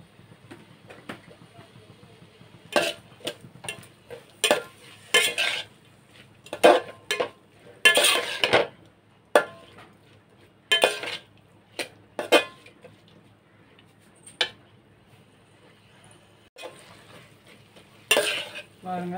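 Tomato rice is stirred and sautéed in a pan with turmeric, giving quiet frying under repeated loud scrapes and clinks of a spoon against the metal, irregular bursts spread across the whole stretch.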